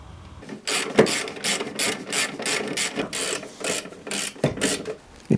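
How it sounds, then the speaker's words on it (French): A ratchet tightens a nut on the engine mounts of a Peugeot 205 in a garage, with close, loud bursts of rapid clicking strokes repeating steadily and separated by brief pauses. "Je commence à visser l'écrou"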